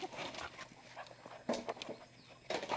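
Several dogs hunting rats scuffle, sniff and scrabble about, with brief whimpers and bursts of rustling at close range.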